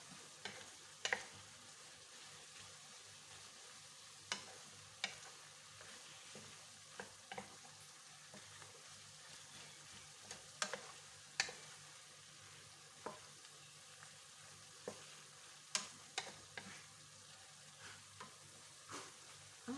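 Yellow noodles and vegetables stir-fried in a pan, a soft steady sizzle broken by sharp intermittent scrapes and clacks of the utensil, moderately close and without any voices.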